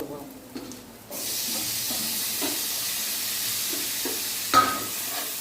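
Ginger and garlic drop into hot oil in a pan and set off a sudden steady sizzling hiss that carries on to the end, with a brief clink of a utensil near the end.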